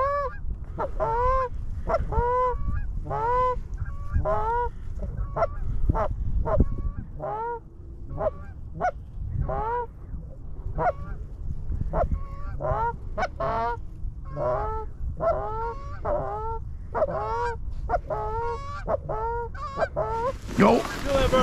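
Wild geese honk steadily and loudly over a Wisconsin hunting layout in cold weather, a dense, rhythmic chorus of overlapping calls running without pause and building toward the end.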